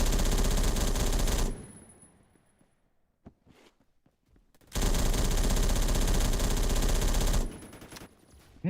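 Sustained automatic assault rifle hipfire in Deep Rock Galactic, loud and continuous in two long bursts separated by a few seconds of near quiet with scattered faint clicks and steps.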